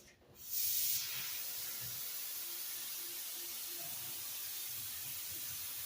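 Air compressor line spraying out with water in the air, a sudden loud burst of hissing spray after a short quiet start, then a sustained steady hiss that continues to the end.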